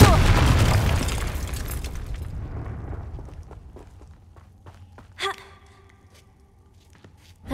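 A Confringo fire spell in Hogwarts Legacy bursts with a loud, broad whooshing blast that slowly fades over several seconds, followed by a sharp crackling impact and a faint ringing tail.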